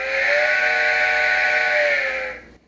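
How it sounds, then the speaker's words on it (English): Steam locomotive whistle from a Loksound DCC sound decoder in a model steam loco with an upgraded speaker: one steady, loud, sustained multi-chime blast lasting over two seconds, then cutting off abruptly. "Let's try the whistle."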